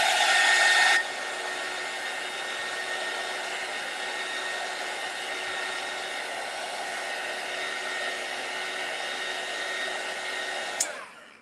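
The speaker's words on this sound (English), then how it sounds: "So I'm going to hit it with the heat gun again." A heat gun blows steadily while drying a Christmas card made with rub-on transfers, a continuous loud whooshing hum with a whining tone that holds for about ten seconds before shutting off with a small click.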